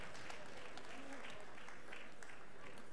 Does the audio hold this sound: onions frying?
no